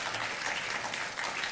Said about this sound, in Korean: 우리 박수로 한번 축복해 주시기 바라겠습니다.